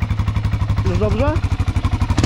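A small ATV engine idles unevenly, its rhythmic putter stumbling and cutting out, while someone speaks briefly over it.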